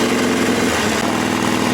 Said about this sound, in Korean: 이렇게 엔진 브레이크를 활용하면 좋아요.